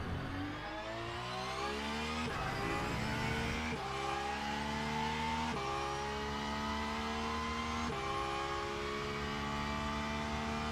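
Race cars, including LMP prototypes and hypercars, roaring in Le Mans Ultimate at Spa, with a steady engine drone and repeated rising gear-shift sweeps that climb in pitch, continuous and fairly loud.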